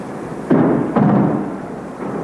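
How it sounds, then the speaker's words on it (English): Allied bombs and anti-aircraft fire explode over Baghdad, two heavy booming blasts about half a second apart, each followed by a rumbling decay over a constant background roar. "with Allied bombs and anti-aircraft fire exploding in the background"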